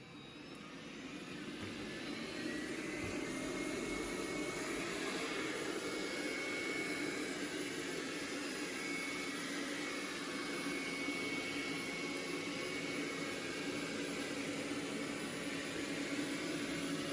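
Roborock Q5+ self-emptying robot vacuum cleaning rooms hums with a steady whirring motor drone, fairly faint and continuous after a brief fade-in, with no voices.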